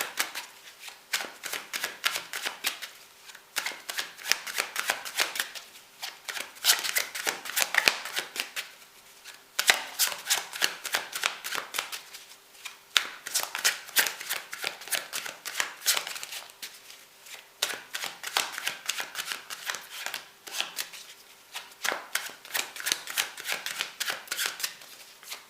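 A tarot deck is shuffled over and over in quick riffling bursts. Each run of rapid card flicks is set apart by short pauses, close and fairly loud, with no talking.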